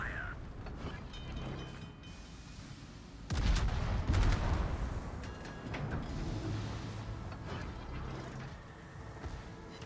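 Warship guns fire in a naval battle game, a heavy boom hitting suddenly a few seconds in and rumbling on under a busy layer of distant gunfire and mechanical battle noise.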